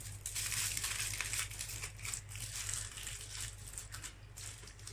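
Noni leaves are folded and pulled tight around pork for a steamed wrap, giving soft close crinkling and rustling over a faint steady hum.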